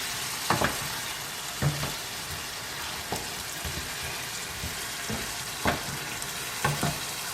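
Potatoes frying in oil with a steady loud hiss and sizzle throughout, broken by several sharp clinks and scrapes of stirring, close and with no voices.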